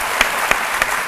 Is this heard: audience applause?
yes